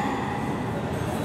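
A JR East East-i track inspection train rumbles past nearby in a steady, broadband roar with rail noise, continuous and fairly loud throughout, no talking.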